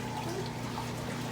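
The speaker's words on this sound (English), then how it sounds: "We're going to strain it, reserve the liquid." Stock being strained in a kitchen, its liquid poured off and reserved, giving a steady continuous pouring wash over a low background hum.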